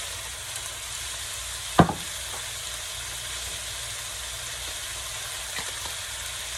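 Fried rice sizzles steadily in a pan as soy sauce goes in, a constant frying hiss with one sharp clink of a utensil early on and a few faint taps.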